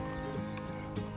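A horse's hooves clip-clop faintly on the ground in a few sparse, quiet knocks set against a low steady hum.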